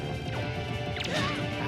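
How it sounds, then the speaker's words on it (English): A sharp crystalline smash as an Armos statue's jewel shatters under a sword hit in The Legend of Zelda: The Wind Waker, a short bright crash over game music. "Thankfully that jewel shatters in like 2 hits."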